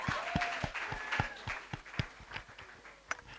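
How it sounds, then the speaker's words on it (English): Audience applause for panelists closing a digital governance panel session: moderate, somewhat sparse clapping with distinct individual claps standing out, fairly quiet and tapering toward the end. "can we please give a round of applause to our panelists?"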